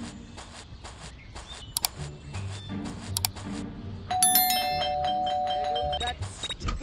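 A doorbell chimes several times inside the Scary Teacher 3D video game, bright electronic dings over soft footsteps and game ambience, with a sustained melodic chime toward the end.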